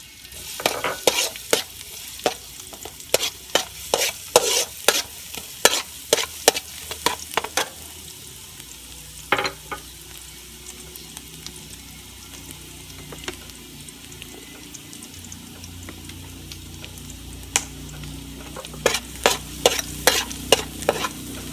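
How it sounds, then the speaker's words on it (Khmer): Garlic sizzling in hot oil in a pan while being stirred, with repeated sharp scraping clicks of the utensil in bursts and a quieter stretch of soft frying between them, no voices. "យើងបើកគាសមក ដើម្បីបំពងខ្ទឹមរបស់យើង"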